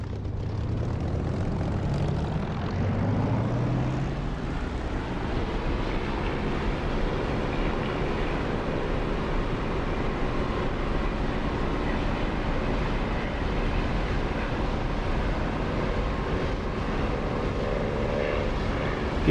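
An aircraft engine in the DCS flight simulator spools up for takeoff. A deep rumble climbs in pitch over the first few seconds and settles into a loud, steady, broadband engine roar that lasts the full length with no speech.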